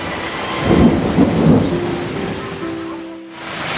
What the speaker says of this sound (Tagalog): Sa sobrang lakas ng ulan, naisipan naming sumilong sa ilalim ng tulay.